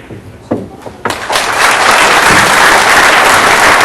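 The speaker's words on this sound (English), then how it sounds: "Listen for the applause" Crowd at a US Open 9-ball pool championship breaking into applause after the winning ball, a few isolated claps swelling quickly into loud, sustained clapping that fills the room.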